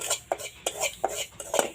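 Semolina dry-roasting in a wok, stirred with a metal spoon: about five evenly spaced, close scrapes and clinks against the pan, with no talking.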